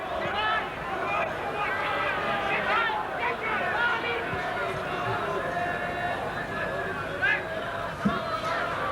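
Leeds rugby league crowd roaring and chanting at a stadium match against Warrington, a dense, continuous mass of voices with a commentator talking over the noise.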